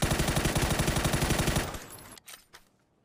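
Rapid automatic gunfire in PUBG rattles loud and close for about a second and a half, then cuts off, followed by a few fainter scattered shots.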